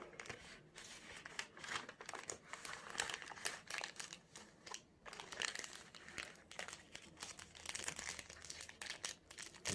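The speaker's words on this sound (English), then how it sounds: "The crinkles of the paper" Paper crinkling and rustling steadily during a tea tree mindfulness exercise, with dense, close crackles in irregular bursts and no speech.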